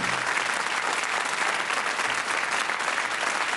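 Steady, dense applause from a TV game show studio audience, continuous clapping at an even level throughout.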